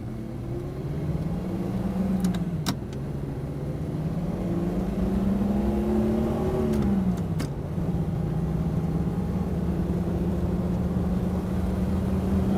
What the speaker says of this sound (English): we'll do a little power pull out here if we can and get out into this traffic